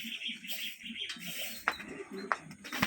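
Released racing pigeons in Santo Domingo, Ilocos Sur, with soft cooing and chirps alongside a few sharp flapping bursts as the birds take off, fairly faint and outdoors.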